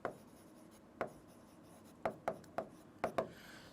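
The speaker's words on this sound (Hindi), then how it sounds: "यहां हम लिख देंगे न्यू इक्वेशन" Chalk or a marker taps and scrapes on a classroom board while a new accounting equation is written, in short sharp strokes with pauses between them, quiet and close.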